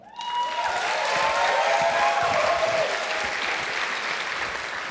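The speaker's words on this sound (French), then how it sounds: "on peut lui donner une bonne main d'applaudissement." An audience at a comedy contest breaks into applause, a full, steady wash of clapping that swells quickly and holds loud for several seconds.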